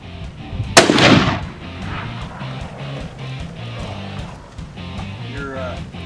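A single sharp rifle shot cracks out loud and near during an elk hunt, its blast decaying over about a second, followed by quiet outdoor background with low rumble.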